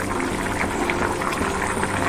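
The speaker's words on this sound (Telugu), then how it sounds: "పులుసు గుమ్మగుమ్మలాడిపోతుంది" A pot of pumpkin stew boils steadily, with continuous bubbling and gurgling close by and no talking over it.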